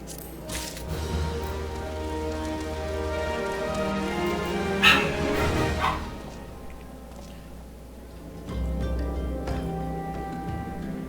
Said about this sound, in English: can hear the dogs in the background, adding their comments in